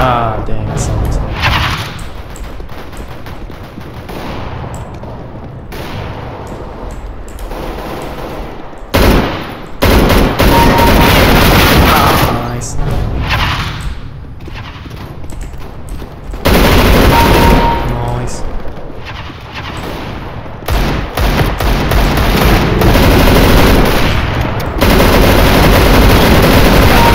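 An M249 light machine gun fires in a CS:GO deathmatch, with loud, close, sustained automatic bursts that repeat with short pauses between them.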